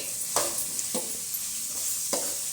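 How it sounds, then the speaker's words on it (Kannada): Carrot and cucumber are stirred into masala rice in a pan, giving four distinct scraping strokes of a spoon against the metal over a faint, steady sizzle, with no voices. "ಇಲ್ಲಿ ಇಷ್ಟು ಹಾಕಿ ಕೈಸಿಂದ ಏನೈತಿ ಚಂದಂಗೆ ಮಿಕ್ಸ್ ಮಾಡ್ಕೋಬೇಕ್ರಿ"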